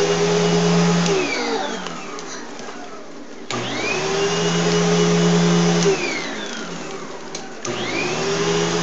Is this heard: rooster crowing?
no